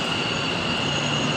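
A metro train rolls in with a loud, continuous rumble and a high steady wheel squeal, close by and unbroken.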